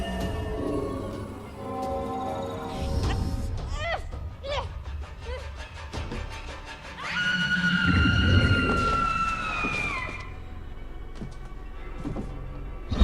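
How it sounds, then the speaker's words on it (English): A powerful supernatural scream from the Murdered: Soul Suspect video game, a long wavering high wail lasting a few seconds over a low, rumbling game soundscape, with scattered thuds before it. "Powerful scream."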